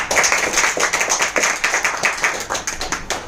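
Audience applause ringing out in a hall, a dense and steady burst of many hands clapping close and loud throughout with no talk over it.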